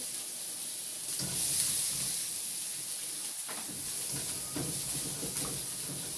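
Onions, two kinds including Bombay onion, tossed into garlic already frying in a pan for pork and beans, giving a steady close hiss and sizzle with faint scraping stir sounds throughout.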